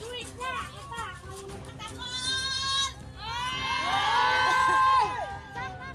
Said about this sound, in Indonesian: para emak-emak ini terlihat meluapkan kemarahannya sambil berteriak dan melempar batu ke arah saung